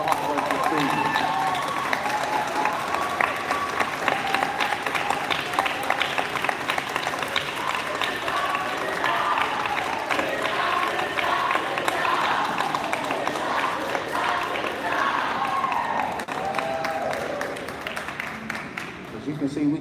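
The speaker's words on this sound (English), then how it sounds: "I would like to personally give you a round of applause for your hard work this season." A crowd at an elementary school board meeting applauds and cheers faculty, a sustained dense clapping roar with voices and shouts mixed in for nearly twenty seconds.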